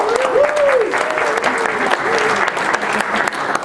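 Audience applause at a formal appreciation event for an Israel Bonds delegation, a steady wash of clapping throughout with a voice talking over it.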